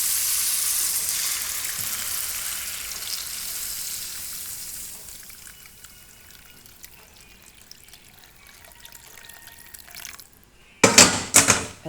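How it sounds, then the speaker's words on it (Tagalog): Water poured into a hot cooking pot of chicken tinola, a loud hissing sizzle that settles into faint bubbling and dripping, ending with a few sharp clattering knocks. "Lagyan na natin ng tubig."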